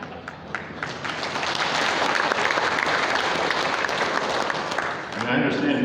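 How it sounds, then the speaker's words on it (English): A crowd at a racing drivers' awards event claps loudly and steadily for several seconds as the applause swells and then fades, and a voice cuts in at the end. "I appreciate your applause for him."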